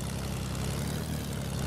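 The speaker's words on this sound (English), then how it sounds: "Another plane ahead." A propeller plane drones overhead in the video game Fortnite, a steady, loud, low engine hum that continues unchanged with no voices over it.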